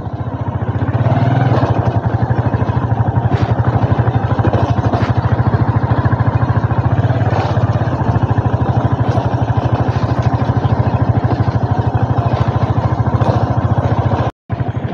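A motorcycle engine while riding along a road past rice paddies in Taita Taveta, Kenya, a steady close mid-pitched drone with a constant throbbing pulse throughout and one brief cutout near the end.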